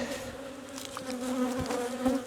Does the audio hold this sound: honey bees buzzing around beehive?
yes